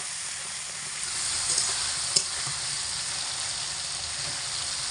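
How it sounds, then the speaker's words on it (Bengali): Chopped green chilies and tomato fry with chickpea masala in a pan. The sizzle is steady and hissing, with a faint stirring scrape partway through. "ভাজা ভাজা করে নেব।"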